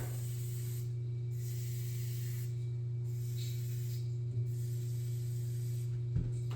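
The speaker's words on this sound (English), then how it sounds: "I gotta spray some lube on it." Spray lubricant hisses onto frozen bolts on a waste oil furnace in a series of short bursts with pauses between them, steady against a constant low mechanical hum.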